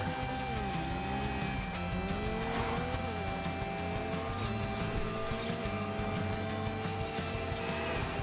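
Sports car engine in GTA 5 Online, a classic Sentinel, droning steadily with gliding pitch changes as it accelerates and shifts, continuous and fairly loud against game background noise.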